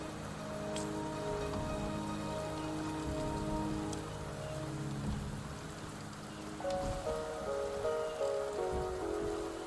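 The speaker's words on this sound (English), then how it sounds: "The rain is subsiding," Steady rain patters and hisses across surfaces in the fantasy game Wuthering Waves, a dense continuous wash beneath sustained, layered musical tones that shift midway through.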